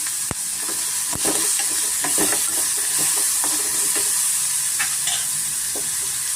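Onions frying in a pan for brinjal fry, a steady close sizzle with repeated scraping and stirring clicks throughout, no talking.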